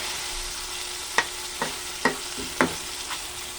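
Chicken adobo gets stirred in a sizzling pan, with a spoon scraping the pan in about five distinct strokes over a low, steady frying hiss.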